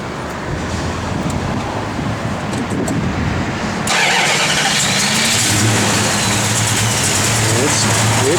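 A 1973 Plymouth Duster's engine cranks and bursts to life about halfway through, then keeps running with a loud, steady, rumbling idle up close, after a stretch of quieter background noise.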